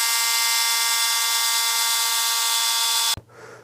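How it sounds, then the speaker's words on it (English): An air compressor runs in a workshop with a loud, steady mechanical drone, then cuts off abruptly, leaving quieter room noise. "As you saw, I had my compressor turned on."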